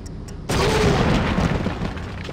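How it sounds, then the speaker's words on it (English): A grenade explodes in the Indiana Jones and the Infernal Machine video game, a sudden loud boom that breaks over quieter game ambience and rumbles on for about two seconds. "Do I have any grenades? Yeah. Let's save and throw them."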